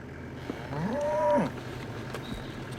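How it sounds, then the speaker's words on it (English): Cattle near an indigenous rainforest village in Guyana give a single loud, drawn-out moo that rises and falls, standing out clearly over quiet outdoor background. "Cattle are a sure sign that the village is nearby."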